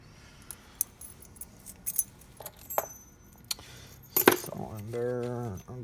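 Metal keys, pre-cut key blanks being put on a ring in a locksmith's rekeying shop, jangle in scattered bright clinks and rattles up close, followed by a louder metallic clatter and a brief drawn-out tone at the end.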